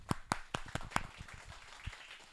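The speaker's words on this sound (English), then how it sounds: "One more clap for everyone." A small audience at a Melbourne CocoaHeads developer meetup gives a short round of clapping: a handful of sharp, distinct claps close together, then thinning to scattered claps, fairly quiet overall.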